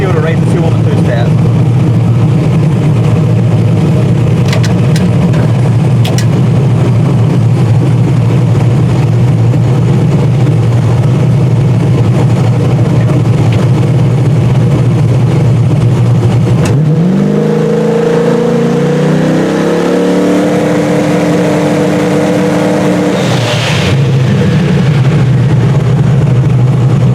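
A car engine holds a loud, steady buzzing drone on a two-step launch limiter, then drops off and settles to a lower idle as the revs fall.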